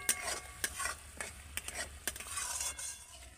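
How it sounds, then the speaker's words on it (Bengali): A spice paste with garam masala stirred and fried over medium-low heat, with quick scraping strokes of a spoon against the pan above a soft, continuous sizzle, close up and moderately quiet. "এবার মশলাটাকে এইভাবে নেড়ে নেড়ে কষিয়ে নিতে হবে,"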